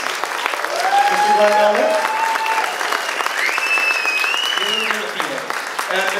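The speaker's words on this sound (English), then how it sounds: "Let's give another big round of applause to our three judges." A crowd applauds the three judges at a high school bird calling contest, steady clapping filling the room while an emcee speaks over it.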